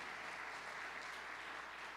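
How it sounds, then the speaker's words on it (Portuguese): Church congregation applauding together, a dense steady wash of clapping that holds evenly for the whole moment, moderately distant and without talk. "Vamos aplaudir Jesus"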